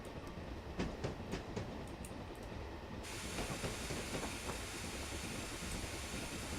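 A BR Class 9F steam locomotive in Train Simulator 2016 works along the line with a steady rolling rumble, soft rhythmic chuffs and a hissing wash of steam that swells louder partway through.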